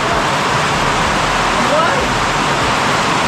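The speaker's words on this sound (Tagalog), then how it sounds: "lakas ng ulan" Heavy rain pours in a dense, loud, unbroken hiss that fills the space with no letup.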